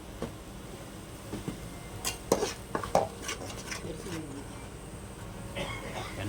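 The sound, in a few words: stirring onions frying in a pan for chicken liver gravy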